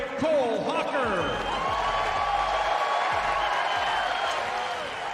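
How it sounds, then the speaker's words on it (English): Stadium crowd at the U.S. Olympic Team Trials in track and field applauding and cheering to welcome runner Cole Hocker, a broad sustained wash of clapping and cheers under an announcer's voice. "What a round of applause."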